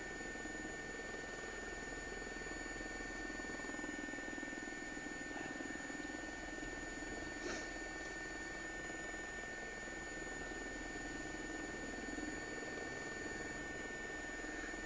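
A helicopter flying over Buckingham Palace in London, steady engine and rotor drone heard from inside the cabin, constant and loud throughout, with no talking.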